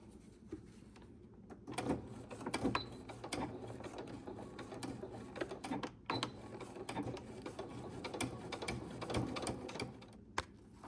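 Sewing machine stitching a removable rod pocket onto a worship flag, a quiet mechanical whir with ticking clatter running in uneven bursts across the stretch, close but soft.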